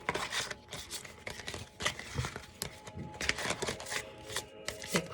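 Oracle cards are shuffled and drawn by hand, a soft rapid riffle of papery flicks and slides, quiet and close, with no talking.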